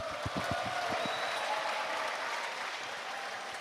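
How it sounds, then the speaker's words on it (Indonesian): Studio audience applause on a talk-show set, a few sharp distinct claps at first, then a full, even wash of clapping from the crowd that stays loud and steady without talk. "Beri tepuk tangan yang meriah."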